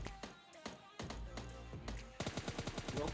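Gunfire in the mobile battle-royale game PUBG Mobile Lite, with sharp repeated shots in an uneven burst that turns into a fast, steady volley toward the end, loud and close, with faint game sounds and talk underneath.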